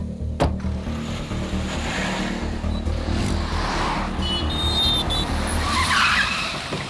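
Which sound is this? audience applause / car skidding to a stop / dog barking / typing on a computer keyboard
car skidding to a stop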